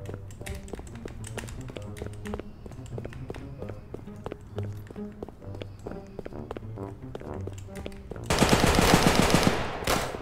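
Gunfire in a street-life hood video game, a string of quick, dense shots and impacts over a steady beat, ending in a loud burst of noise.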